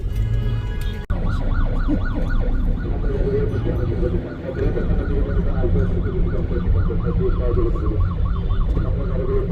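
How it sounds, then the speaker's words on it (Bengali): An ambulance siren wails behind a car on a Chattogram city street at night, its rising and falling tone repeating steadily and loudly over road and engine rumble. "শুনতে পাচ্ছেন পিছনে অ্যাম্বুলেন্স"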